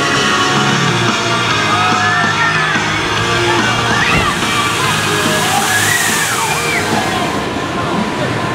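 Water crashes and sloshes heavily at a water ride at Kings Island amusement park, loud and continuous, with crowd noise and shouts from onlookers standing on a bridge to get soaked.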